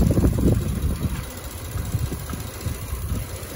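A 2019 Audi S5 Prestige Quattro Sportback with a 3.0 supercharged engine idles nearby, a steady low rumble with a faint high whine running over it, and no talking.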